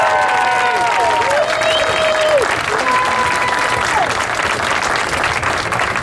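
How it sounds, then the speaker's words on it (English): An audience at a public market fountain event in Rochester applauds steadily, a dense sustained clapping from a crowd with a few brief whistles and cheers over it. "Let's give him a big round of applause."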